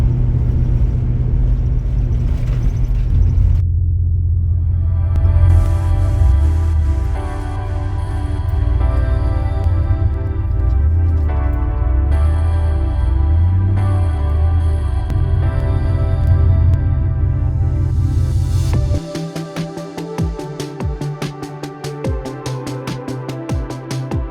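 A car engine rumbles and whirs steadily at close range as the vehicle is moved out of the way. The tone shifts partway through and ends in a rougher, pulsing stretch.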